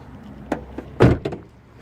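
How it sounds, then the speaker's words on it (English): A Toyota Camry car door shuts with one solid thump, a few lighter clicks and knocks of the latch and panel around it, close by with no talking. "and shut the door."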